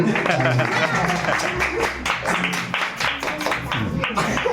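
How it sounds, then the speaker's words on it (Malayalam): A crowd claps steadily, welcoming a performer onto the stage at a cultural performance, a dense wash of applause that holds throughout with a low hum underneath. "എല്ലാവരും ഒരു കൈയടിയോട്"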